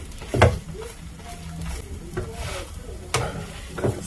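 Vegetable toast frying in a greased pan as the pan is shaken, a steady close sizzle with a few sharp scraping jolts and knocks of the pan.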